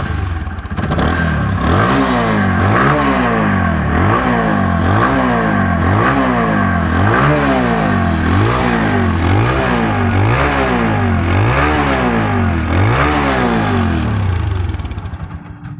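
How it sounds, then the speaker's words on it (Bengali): A TVS Apache RTR 160 motorcycle engine fires up and is revved repeatedly, close and loud, rising and falling in regular throttle blips before it winds down at the end. "এখন আমি গাড়িটা স্টার্ট করে দেখাবো"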